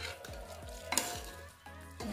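Tomato rice mixture being stirred and fried in a pan over low gas, rhythmic spoon scrapes repeating about every half second over a soft continuous sizzle.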